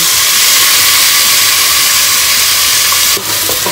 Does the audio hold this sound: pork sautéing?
yes